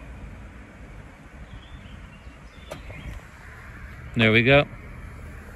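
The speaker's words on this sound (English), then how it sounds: "You can hear the cooling of the charger." Steady broadband whir from the cooling system of a Tamoil 90kW EV fast charger at Klazienaveen, Netherlands, charging a Peugeot e-208 GT, running continuously outdoors in wind, with a brief spoken phrase near the end.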